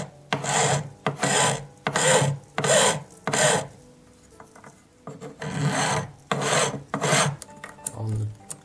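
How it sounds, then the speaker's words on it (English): A jeweller pushes the claws of a ring's solitaire setting over a gemstone, making repeated short scraping, rasping strokes of metal on metal in an uneven rhythm, close and fairly loud, with no talking. "Push the claws as far as they'll go."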